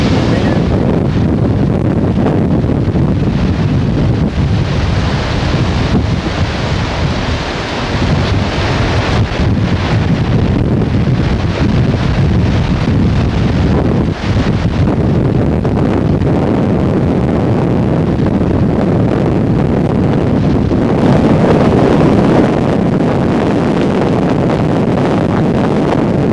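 Hurricane Georges winds roar across South Beach, Miami, a loud continuous buffeting gust noise battering the microphone throughout, with no clear breaks.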